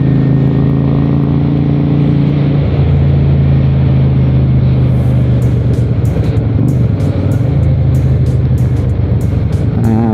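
A 1992 Honda Shadow 400 cruiser motorcycle engine drones loudly and steadily while riding, with a deep constant rumble and rushing wind. No one speaks.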